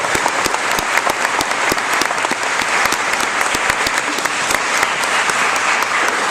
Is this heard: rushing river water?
no